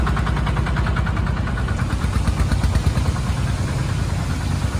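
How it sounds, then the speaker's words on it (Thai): A 3-ton lift truck for carrying pigs runs with a steady, rumbling mid-low engine drone as it drives forward and turns, constant and fairly loud throughout with no talking. "เดี๋ยวเดินหน้าออกมาใหม่แล้วลองวนดูนะครับ ว่า การขับขี่เป็นยังไง"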